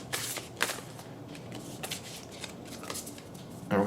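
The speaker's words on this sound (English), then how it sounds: "we shuffle." An oracle card deck being shuffled by hand, a series of quick papery riffles and slides close up, with a short voice near the end.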